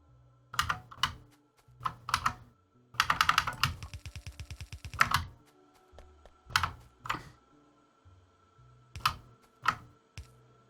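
Keyboard shortcuts typed on a computer keyboard while playing Factorio: close, distinct clusters of key clicks and thunks, with one fast burst of rapid keystrokes in the middle, separated by short pauses.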